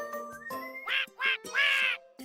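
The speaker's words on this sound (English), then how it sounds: "Max who quacks." A talking duck character in the video game Dread Weight gives a run of bright, nasal quacks, several close bursts in quick succession over a faint game tone.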